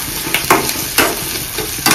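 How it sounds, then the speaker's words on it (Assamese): Brinjal slices frying in a small, thin wok heat up fast, giving a steady close sizzle broken by a few sharp scraping stirs spaced about half a second apart. "বেঙেনা দি এইটো ফ্ৰাই কৰিম"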